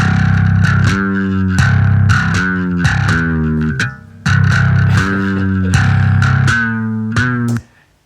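A heavy, distorted bass tone plays short chugging notes and sustained low chords in bursts, loud and thick, with a brief gap partway through.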